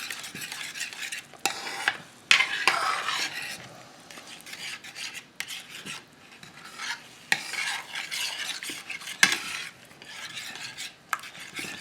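A spatula scrapes and stirs homemade sloppy joe mixture of ground beef in a pan. The strokes are close, irregular and repeated over a soft sizzle, with no talking.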